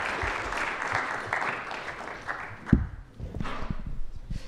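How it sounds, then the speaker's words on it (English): A debate audience at Yale applauds the student debaters, a dense spread of clapping that thins out midway, followed by a thump, scattered claps and faint murmuring. "Let's give the debaters a round of applause"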